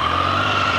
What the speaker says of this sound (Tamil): இந்த பைக்கோட எக்ஸாஸ்ட் நோட் எப்படி இருக்குது அப்படின்றத கேட்போம்